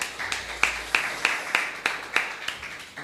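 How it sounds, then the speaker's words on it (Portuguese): A church congregation claps in a slow, regular rhythm, about nine distinct claps spaced evenly, moderately close and unaccompanied by speech. "Aplauda ao Senhor."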